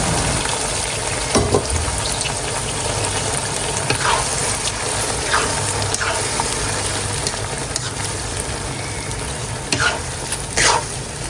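Mung beans in a pot of water at a steady simmer, giving a continuous broad bubbling hiss with soft stirring scrapes and a few brief clinks, no voices.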